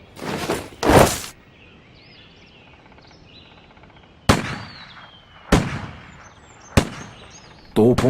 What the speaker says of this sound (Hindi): वायसरॉय का स्वागत 21 तोपों की सलामी से किया गया।